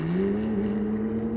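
A McLaren 720S and 675LT accelerate flat out in a rolling race, a steady, loud engine drone rising slowly in pitch as the cars pull hard, heard from inside with no break.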